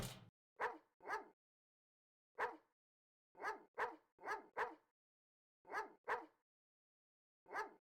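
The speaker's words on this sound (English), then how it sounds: "Mr. Worm Shadow, shut up your dog!" Cartoon dog barking in a spooky haunted-house video game, a string of about twelve short, clipped barks spaced irregularly with silent gaps, clear and alone.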